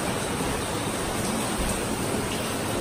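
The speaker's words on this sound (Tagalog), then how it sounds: "Ang lakas ng ulan dito sa amin." Heavy rain pours down in a dense, steady hiss that fills the whole moment, close and unbroken, with no voices or other sounds on top.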